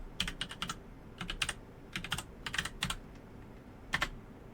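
Bursts of key clicks on a computer keyboard as a password is typed, several quick clusters of taps with short pauses between them, close and clear with no talking.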